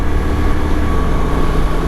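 A Honda NT1100 motorcycle engine running in 4th gear in manual mode gives a loud, steady, dense drone with constant rumble and engine hum, heard close up from the rider's position.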